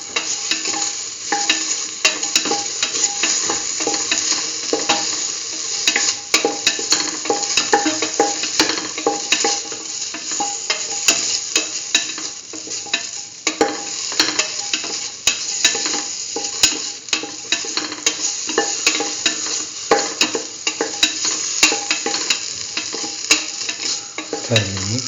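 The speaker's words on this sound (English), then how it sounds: "Thoroughly saute and mix." Cauliflower and chayote being sautéed in a pan make a loud, close, constant frying sizzle, with busy scraping and stirring textures throughout and no talking.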